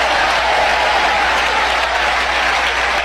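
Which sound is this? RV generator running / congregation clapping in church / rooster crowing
congregation clapping in church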